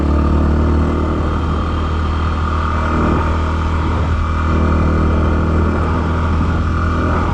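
A Yamaha WR250R motorcycle rides on a cold late-autumn day, its engine droning steadily and loudly up close, with constant wind rush and small shifts in pitch as the throttle varies.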